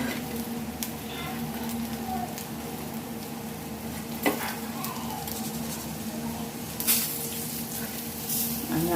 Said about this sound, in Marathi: आणि अशाच पद्धतीने आपण दुसरी पण मच्छी तळून घेणार आहोत